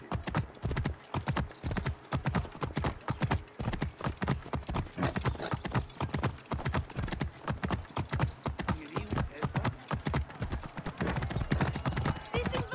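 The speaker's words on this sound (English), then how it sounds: "Then I'll call up the horse and we'll get to Phanos." Horse hooves clip-clop in a steady, brisk rhythm on a road in Assassin's Creed Origins, close and clear, with a brief whinny and no talking.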